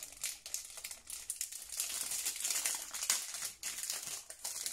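Stickers are pulled out of birthday mail packaging with close, continuous crinkling and rustling of paper and plastic that swells and dips in bursts.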